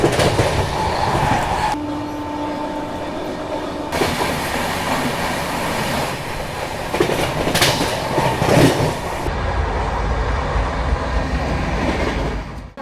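A Sealdah Duronto passenger train passes the Darbhanga-New Delhi special train on the route from Kanpur to New Delhi, heard from inside the coach as a loud, steady roar with rhythmic wheel clatter and sudden shifts in the rush as the other train goes by.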